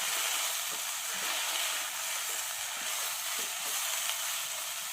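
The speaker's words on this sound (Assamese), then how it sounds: "অকমান লালচৰ কৰি অকমান ভাজি লম" Okra (bhendi) frying in a pan over a medium gas flame gives a steady, close sizzle and hiss throughout, with faint stirring scrapes and no talking.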